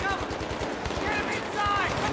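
Sniper fire and rapid automatic gunfire in the military shooter Battlefield 3: a steady string of sharp, close shots running throughout, with voices shouting over the battle.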